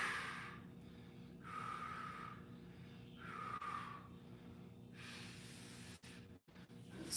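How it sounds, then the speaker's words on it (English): A person doing a side plank exercise takes big, forceful breaths, with about four loud, breathy exhales in a steady rhythm a second or two apart, close to the microphone over a quiet room hum. "Big exhales."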